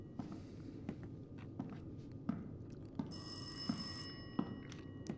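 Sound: telephone ringing in the garden in video game Rise of Insanity VR

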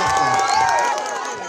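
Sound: crowd cheering and clapping at rally

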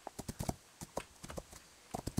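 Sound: horse hooves cantering in video game Rival Stars Horse Racing

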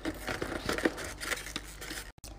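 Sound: scissors cutting open a fidget toy package

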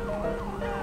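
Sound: police car siren in video game GTA 5

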